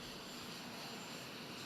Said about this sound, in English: I love the noise of the jet.